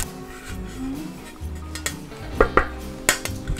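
A small metal plate is handled, with soft rubbing and shuffling followed by a few sharp metallic clinks and taps, close and fairly quiet.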